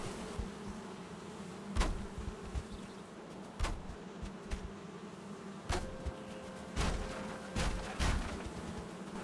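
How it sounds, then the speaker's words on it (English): Bees fly in and out of backyard beehives, a faint buzzing drone with scattered louder passes as individual insects fly close by. "And I'm still seeing bees coming in and out of those hives."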